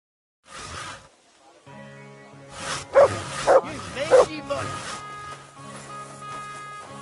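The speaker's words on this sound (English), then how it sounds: "Call off that dog! Call off that dog now!" A dog in Kingdom Come: Deliverance II gives three sharp, loud barks in quick succession, set over a steady game soundscape with voices speaking around them.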